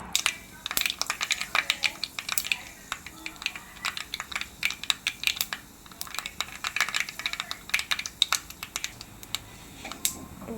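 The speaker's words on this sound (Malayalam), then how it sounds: "കടുക് പൊട്ടിക്കഴിഞ്ഞിട്ടുണ്ട്" Mustard seeds pop in hot oil in a home kitchen, a steady run of sharp, crackling snaps close by, irregular and quick, with no talking over them.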